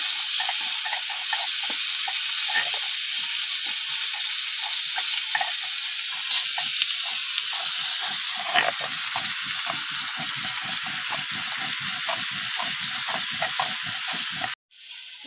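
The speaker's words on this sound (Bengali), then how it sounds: "সবজিটা একটু কষে নেবো।" Cauliflower sautéing with turmeric in a hot pan gives a loud, steady sizzle and hiss, with faint scrapes of stirring throughout, briefly cutting out near the end.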